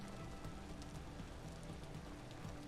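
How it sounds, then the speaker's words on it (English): Rain falls in the survival video game Vintage Story as a steady, soft, even hiss of drops, quiet and continuous with no voices. "It's raining on stream and it's pouring here in Missouri too"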